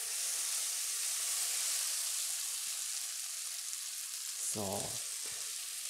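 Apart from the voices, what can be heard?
sautéing peppers, onions and garlic in a pan for shakshuka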